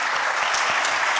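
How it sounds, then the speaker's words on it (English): An audience at a community morning arts event applauds the musicians, one of them a theremin player, with dense, steady clapping that fills the whole brief moment without a break. "I just want to give a round of applause for our musicians today."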